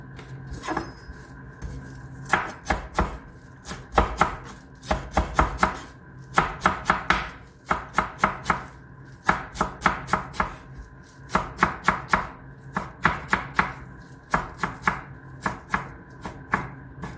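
Beetroot being chopped on a cutting board for a beetroot salad: a steady series of sharp knife strikes in quick bursts, close and clear, with brief pauses between runs and no voices.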